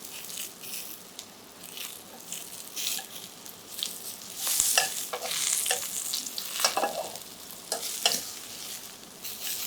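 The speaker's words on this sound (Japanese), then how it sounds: "枝もパリッと焼き上げます。" Turnip pieces with their stems sear over medium heat in a pan, a steady sizzle with scattered crackles and pops from the stems crisping.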